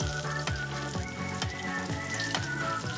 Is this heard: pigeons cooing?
no